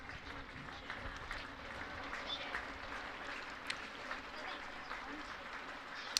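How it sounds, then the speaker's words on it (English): Crowd at a county championship cricket match applauding a half century, steady soft clapping that holds at a low level, distant, with faint bird calls. "in the background you can perhaps hear the applause just dying down as the crowd here celebrate Lyndon James' half century"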